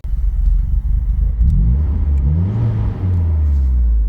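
A 1986 Volvo turbo wagon engine revs hard on a drive, deep rumble rising in pitch through a couple of gears, loud and close from inside the car.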